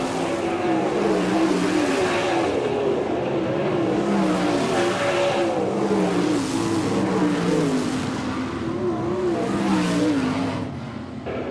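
Sprint cars racing at Port Royal, Pennsylvania, in an All-Star Circuit of Champions qualifying event: a pack of engines roars continuously, rising and falling as cars pass, loud and dense throughout.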